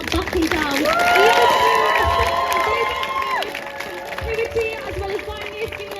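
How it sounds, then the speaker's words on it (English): Crowd at a pro-Palestinian protest at Leeds University cheering and clapping, a loud mix of shouts and whoops with a sustained tone, voices layered throughout. "Can we please get a round of applause for those brave and amazing students for not backing down"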